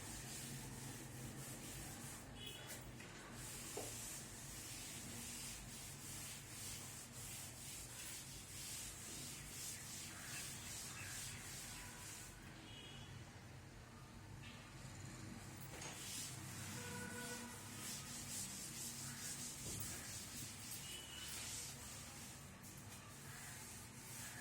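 Continuous soft rubbing and scraping, like a duster wiping writing off a board, carries on steadily for the whole stretch with no talk over it.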